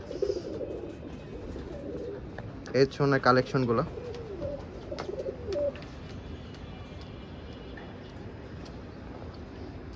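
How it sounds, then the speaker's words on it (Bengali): Budapest pigeons in a loft coo in a short burst of low, throaty calls, close and fairly clear, while someone speaks quietly before and after. "সব ধরনের কবুতরই আছে মোটামুটি এই লফটে।"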